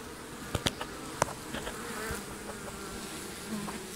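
Honeybees buzzing busily around an active beehive, a dense steady drone with individual bees zipping close past in brief louder passes, no talk.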